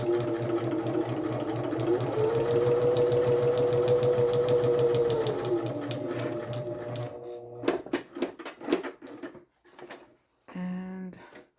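A sewing machine runs single stitches across a book page, its steady motor whir lasting about seven seconds before stopping. Quiet talking and handling noises follow.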